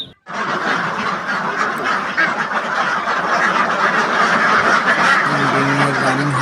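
Goslings at a poultry hatchery peep and chatter together as a dense, continuous flock, close and loud, with a few sharper honks near the end.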